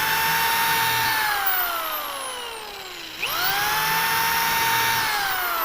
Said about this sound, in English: I'm going to drill 16 pilot holes